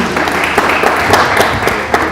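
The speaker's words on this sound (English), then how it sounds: "Let's give him a round of applause." Audience applause at a church couples' event, a dense, steady wash of many hands clapping throughout, loud and close with scattered sharper claps standing out.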